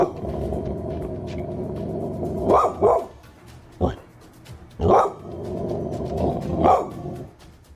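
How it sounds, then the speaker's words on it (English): A dog growls low and continuously, breaking into several sharp, loud barks in irregular bursts while a person talks in the background. "She starts growling and barking more as she gazes upwards."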